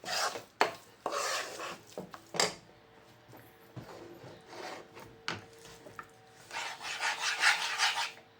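A gor papdi jaggery mixture is stirred slowly in a pan, making close scraping and rasping strokes at an uneven pace, with no talking.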